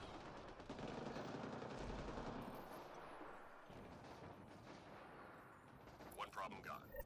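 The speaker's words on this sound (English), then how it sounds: "this scattershot still did very good damage" Remnant Scattershot shotgun firing in the game Mass Effect Andromeda, dense booming blasts and energy crackle filling the first seconds, then fading under a voice talking.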